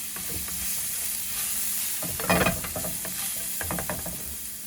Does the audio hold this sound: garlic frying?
yes